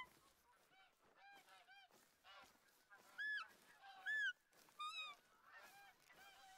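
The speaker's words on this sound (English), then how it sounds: "More geese over here." Geese honk in the hunting game theHunter: Call of the Wild, a flock giving repeated nasal calls in irregular bursts, several loud close honks standing out among fainter ones.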